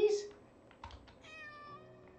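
Small cats give a few soft, brief meows amid light clicks and a faint steady tone, quiet and close in a game scene from Layers of Fear: Inheritance.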